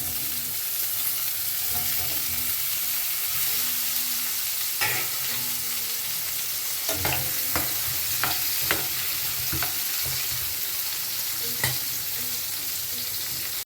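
Washed pumpkin pieces fry in oil tempered with nigella seeds, with a constant sizzle and scattered spatula scrapes and knocks against the pan, growing busier toward the middle.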